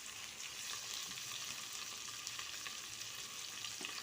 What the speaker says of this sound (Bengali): ফুলকপি আলুগুলোর মধ্যে আমি পরিমাণ মতো লবণ আর হলুদ মরিচ দিয়ে আমি ভেজে নিচ্ছি।